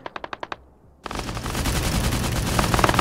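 Rapid automatic cannon bursts from a Tigris anti-air vehicle in Arma 3: a short volley of about six sharp shots, a brief pause, then sustained loud continuous firing that fills the rest of the moment.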